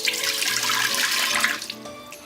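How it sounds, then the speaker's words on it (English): About two cups of water poured into an Instant Pot, a loud close splashing stream that runs steadily for about two seconds and then tapers off, with no talking. "you're gonna put 2 cups of water"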